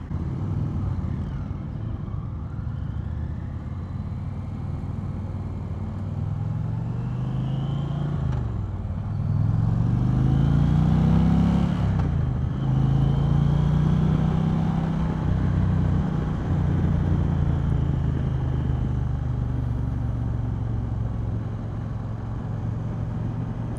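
A 2020 Indian Challenger Dark Horse motorcycle engine runs steadily during a test ride, a loud continuous low rumble that swells and rises in pitch around the middle as the rider accelerates, then settles back to a steady drone.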